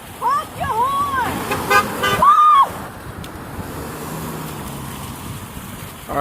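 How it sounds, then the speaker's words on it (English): A passing car's horn toots briefly in the middle amid traffic noise on a street, loud and close, while people shout and talk around it before and after. "Honk your horn!"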